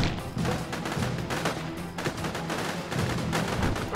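Coil guns firing in the survival strategy game Judgment: Apocalypse Survival Simulation, a dense, continuous burst of rapid overlapping shots with no pauses, loud and sustained throughout.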